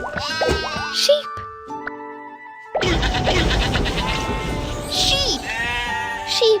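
Sheep bleating several times in a children's numbers and animals learning setting, wavering cries at the start and again later, with a short gap and a voice speaking between them.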